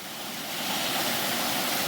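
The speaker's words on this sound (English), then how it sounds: "Here's the next waterfall." An isolated mountain waterfall in Tasmania's North West roars as a steady, dense broadband rush, loud and close, building slightly and then holding constant with no voices.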